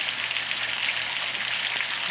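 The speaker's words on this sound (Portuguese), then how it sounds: "Aí galera, muita chuva." Heavy rain from a fast-forming storm in northeastern Brazil, a dense steady hiss of downpour pattering on surfaces, loud and constant throughout.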